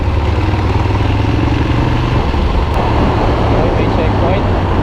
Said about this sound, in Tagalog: Yung exhaust niya stock exhaust, pero ang lakas